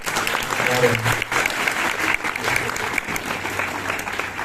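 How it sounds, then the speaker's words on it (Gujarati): A crowd at a grand celebration of Gurudev Harikant Surijī Maharaj's 58th birthday breaks into dense, sustained clapping, with a voice speaking over the applause. "आपकी तालियों में भी तो थोड़ा जोर होना चाहिए"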